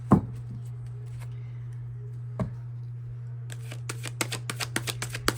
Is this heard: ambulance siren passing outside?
no